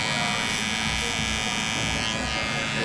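Electric hair clippers trim a taper during a haircut and beard trim, a steady close buzz running the whole time beneath someone talking.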